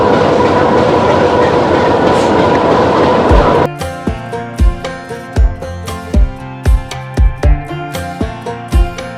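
Interior of a crowded local passenger train on the Kalmakanda line in Bangladesh: a steady broadband rumble gives way to a rhythmic clickety-clack of wheels over rail joints, loud and close, with regular paired thumps.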